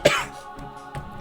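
A single sharp cough bursts out close by, followed by a couple of softer throat-clearing rasps.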